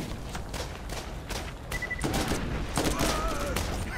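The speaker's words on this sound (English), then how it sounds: "I just threw a grenade at me." Grenade blast and bursts of gunfire from the Borderlands video game, a series of sharp shots and thumps at moderate level, with faint voices underneath.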